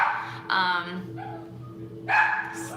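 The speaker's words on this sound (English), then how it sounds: "my dogs are yelling at a squirrel" Dogs barking and yelping at a squirrel, close and loud, in several sharp bursts with brief whimpering tones between them.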